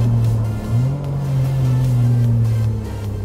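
A Kia Picanto race car on a track pulls out of turn one in third gear, its engine a loud, close, continuous drone that dips briefly and then climbs and holds under acceleration.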